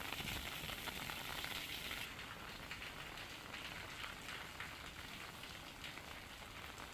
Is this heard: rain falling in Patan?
yes